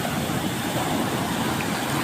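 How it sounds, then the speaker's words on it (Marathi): Sea waves wash in along the Konkan shore during traditional net fishing, a loud, steady rush of surf close by, with no voices. "बघा पाण्यामध्ये आता बघा लाट आली आहे"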